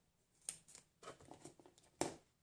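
Small detailing scissors cut paper for a handmade Valentine card, giving a few quiet, close snips and rustles, with a sharper cut at the end.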